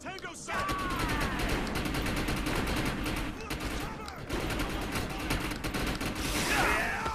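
Rapid gunfire from a high-recoil gun in the video game Defiance, dense continuous bursts of shots filling the scene, with voices talking over the shooting.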